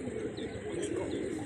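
Black Karbalai pigeons, high-flying racers, cooing softly with a steady low murmur, close by and alone.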